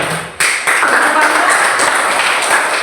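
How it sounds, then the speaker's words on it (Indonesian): Students clapping hands together in a school classroom or hall, a steady dense wash of clapping that continues throughout after a brief pause near the start. "Tepuk tangan."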